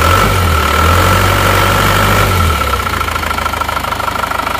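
A cold Isuzu Panther diesel engine idles loudly up close with a rough, knocking rumble; a higher whine fades out partway through while the idle continues.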